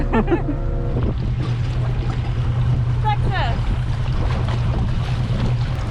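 A boat pulls away across the Banasura Sagar dam reservoir, its engine a steady low drone under wind and water noise while people talk and call out over it.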